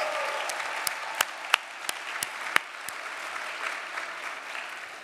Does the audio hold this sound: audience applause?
yes